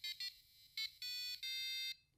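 Arduino passive buzzer playing a tune: sharp, shrill electronic tones in a short melody, a few quick beeps followed by longer held notes, close and clear with no talk.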